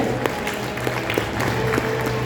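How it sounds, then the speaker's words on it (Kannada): An audience at a school annual day teacher appreciation segment claps for teacher Anupama, a dense, steady round of applause from a crowd filling the hall. "ಜೋರಾದ ಚಪ್ಪಾಳೆ ಅನುಪಮಾ ಅವರಿಗೆ"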